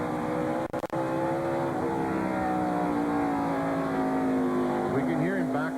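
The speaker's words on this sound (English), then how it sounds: "We can hear him back off the throttle now." Race car engine at Watkins Glen during the 1996 Bud at the Glen, a loud sustained roar whose pitch sags and wavers as the driver backs off the throttle, with commentators talking over it.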